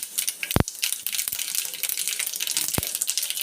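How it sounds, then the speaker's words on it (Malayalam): Mustard seeds splutter in hot cooking oil, making a dense close crackle with scattered sharp pops over a steady sizzle and no voices. "കടുക് പൊട്ടുന്നുണ്ട്."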